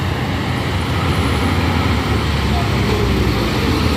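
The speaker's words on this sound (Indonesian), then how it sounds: "ini ada truk trailer Hino" A Hino trailer truck rumbles past on a hill road, a steady loud low engine drone with broad roadway noise filling the whole stretch, with talk on top.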